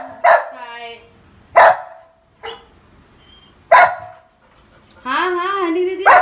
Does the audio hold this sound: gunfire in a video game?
no